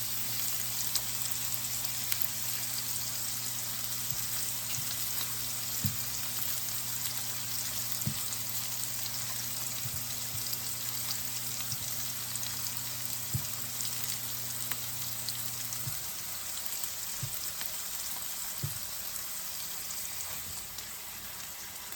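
Mushrooms fry and caramelize on a griddle in a dense, continuous sizzle with a steady low hum that cuts out near the end, scattered faint pops and ticks throughout.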